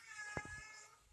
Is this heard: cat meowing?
yes